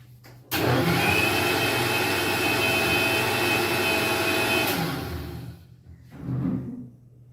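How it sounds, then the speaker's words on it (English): An electric blender whirs loudly as it blends an avocado milkshake, starting abruptly, holding a steady high roar for several seconds, then winding down with a short final burst. "And now I will blend this"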